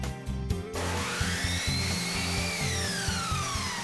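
A power saw cuts straight through polyurethane crown molding, a loud steady mechanical drone running continuously after a brief start, close up with no talking.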